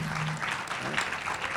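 An audience applauds panelists at the close of an internet forum panel in Brazil, a dense, steady wash of clapping that lasts throughout with a voice faintly underneath.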